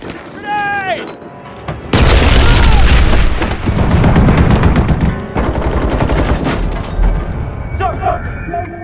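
War film battle scene with a militia attack on a platoon at evening: dense machine-gun bursts and heavy explosions roar loudly and continuously, while a voice talks over the barrage.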